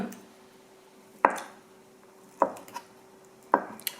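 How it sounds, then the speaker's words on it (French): A knife chops a block of tofu into rough cubes on a cutting board, giving three sharp, evenly spaced thunks with faint softer taps between, close and clear over quiet kitchen room tone. "On le coupe grossièrement en cubes."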